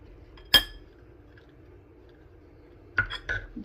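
Spoon clinking against a bowl while mixing a horse gram sprout salad with jalapenos, one sharp clink followed by a few softer knocks after a quiet pause.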